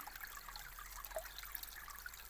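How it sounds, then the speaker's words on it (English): Water trickles and gurgles over rocks into a small pool in a hidden forest river valley, a soft continuous babble that stays faint and steady throughout. "you can hear all the water behind those rocks and everything as it comes down into this small pool"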